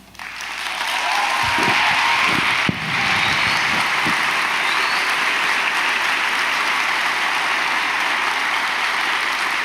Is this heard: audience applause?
yes